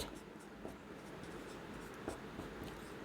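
Pen strokes scratch across paper while a math curve-tracing problem is worked, a steady faint rustle with a few brief accents, close and quiet with no talking.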